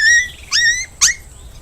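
Short high-pitched dog whines or yelps, two to three brief squeaky cries with pauses between, fairly close, set in a Hindi story scene with faint background noise.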